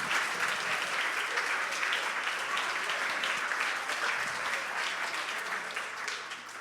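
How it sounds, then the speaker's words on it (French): An audience at a high school talent show final applauds loudly and steadily, a dense wash of clapping that fades slightly at the end. "Donc, une autre main d'applaudissement."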